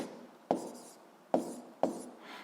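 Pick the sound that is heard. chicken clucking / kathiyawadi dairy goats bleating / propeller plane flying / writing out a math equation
writing out a math equation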